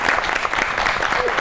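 Studio audience applauding on a Pakistani comedy talk show, a dense, steady burst of clapping that fills the whole moment at close range.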